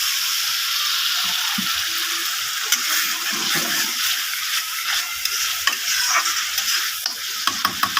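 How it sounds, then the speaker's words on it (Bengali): Spice paste for a Bengali fish curry stir-fried in a pan with a little added water, giving a steady close sizzle with scraping stirs and a few sharp ladle clicks toward the end. "ভালো করে মশলাটাকে আমি এখন কষিয়ে নেব।"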